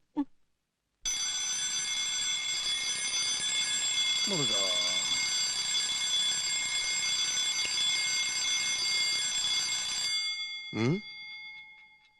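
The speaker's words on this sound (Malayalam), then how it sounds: "ഇതാരാ 3 മണിക്ക് അലാറം വെച്ചത്?" An alarm set for 3 a.m. rings steadily for about nine seconds, a bright electronic tone with strong harmonics, cutting off abruptly; a brief voice is heard before and after.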